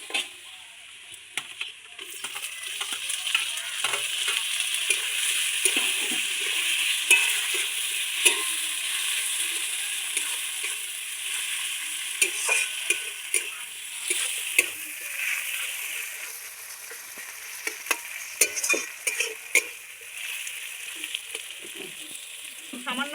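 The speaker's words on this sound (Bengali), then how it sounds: "এবার পেঁয়াজের মধ্যে টমেটো কুচিগুলো দিয়ে একটু নাড়িয়ে নেব।" Chopped tomatoes stirred into onions that have been frying for a spicy chicken curry: a continuous sizzle with repeated scraping and sloshing stirs, some strokes sharper and more frequent toward the end.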